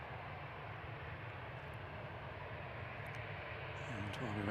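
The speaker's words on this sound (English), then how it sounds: "here's the Ethiopian A350-900 making its way out" Ethiopian Airlines A350-900 jet taxiing out at Manchester Airport, a steady low engine rumble and broad roar growing slightly louder toward the end, with a voice talking over it.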